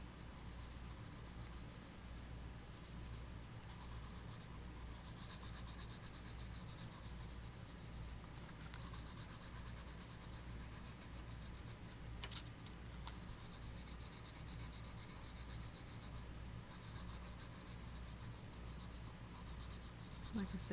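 A colored pencil blender rubs lightly across textured paper while coloring tulip leaves, giving a quiet, close, steady scratchy scrubbing in short repeated strokes, with faint background hiss.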